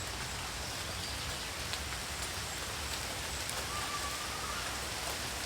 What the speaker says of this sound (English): now it's pouring.